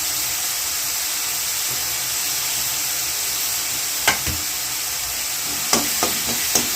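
Ginger and garlic sautéing in a pan of hot oil give a steady, fairly loud sizzling hiss, with a few sharp scrapes of stirring near the end and no talking.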